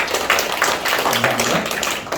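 Dense applause from a church congregation during a prayer training class, steady broadband clapping filling the whole moment with no pause, loud and close.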